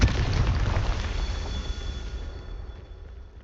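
Confringo fire spell in Hogwarts Legacy bursting into a loud booming explosion that fades away over a few seconds, heard alone.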